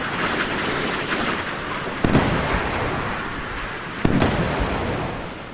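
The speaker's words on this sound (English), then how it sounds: "explosions in the distance." Two deep, rumbling booms from naval combat in a video game land a couple of seconds apart over a steady low roar, sounding distant and muffled.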